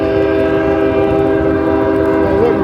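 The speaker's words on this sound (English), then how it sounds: "Oh, look, we got a train coming." A train passes close by along a riverfront, its horn sounding loudly and steadily throughout with a dense rumble of rail cars underneath.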